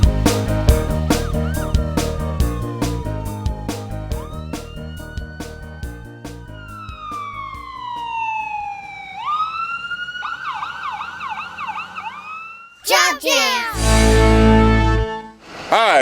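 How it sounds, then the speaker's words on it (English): A loud ambulance siren wails and sweeps up and down, shifting between pitches, then ends in a burst of noisy rumble near the end. "whenever you hear our sirens"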